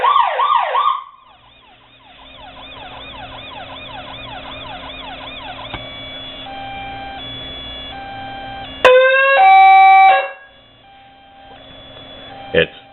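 Federal Signal PA20A Interceptor siren box sounding off through several tones: fast yelp, rising-falling wail, then a steady hi-lo whoop and a sharp burst, loud and electronic with a faint motor hum beneath.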